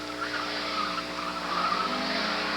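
A race car skids through an autocross slalom at a 1988 national solo event, with sustained tire squeal and engine drone heard from a distance.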